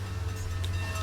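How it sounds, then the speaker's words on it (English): A steam train in a railway video game rolls into a station, heard as a steady low rumble and hum close by with a faint hiss, without any talk. "Oh, there's a train coming in."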